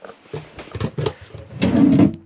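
A drawer slides and knocks shut a few times in quick succession, close by, with wooden thuds and rattling and no talking, inside an Auto-Trail Delaware motorhome.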